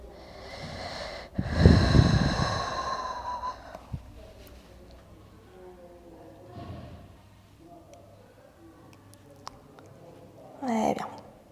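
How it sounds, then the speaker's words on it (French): Deep breathing during a Pilates exercise: a loud, close breath around two seconds in, then quieter breaths. A sharper inhale comes near the end. "Et respire."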